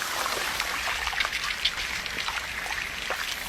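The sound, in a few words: rain falling on leaves and puddles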